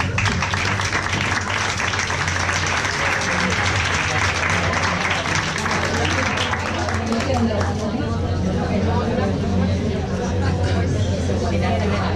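A crowd at a technology talk event applauds steadily for several seconds, the clapping thinning out as murmuring voices take over toward the end.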